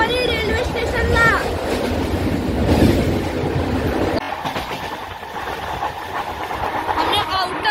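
A Dadar-Virar fast local train runs at speed near Jogeshwari station, its loud rumble and rattling clatter filling the space, with a brief shift in tone partway through and a voice faintly in the mix.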